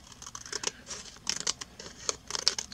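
Scissors snip and crinkle through the plastic wrapping of a Deadpool Series 3 blind bag, giving a series of close, sharp cutting clicks and rustles in uneven bursts, with no talking.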